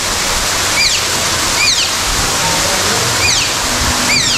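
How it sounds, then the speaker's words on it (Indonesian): A large artificial waterfall inside a zoo roars as a loud, steady broadband rush, with faint chirping calls sounding over it now and then. "Oh. Air terjun raksasa."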